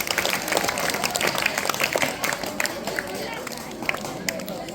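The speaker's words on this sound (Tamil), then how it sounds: "மாணவிகளுக்கு கைத்தட்டல் மூலமாக உற்சாகப்படுத்தவும்." Students at a government high school's Tamil literary prize event applaud in a crowd, with dense, continuous clapping and a lively murmur, alongside speech throughout.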